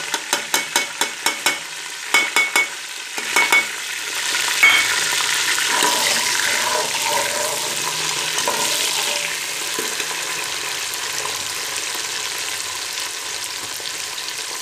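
Chopped onions hit hot oil in a pan for a white lobia curry, bursting into a loud sizzle after a few sharp taps and clicks, then settling into a steady, close frying hiss.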